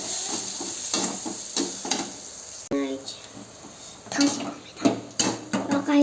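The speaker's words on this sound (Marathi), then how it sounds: "आता आपण आता हलवून घ्यायचं आहे" Vada pav filling is stirred in a pan, with repeated scrapes and metallic clinks of a spoon against the pan over a light sizzle, uneven and close, with a voice talking at times.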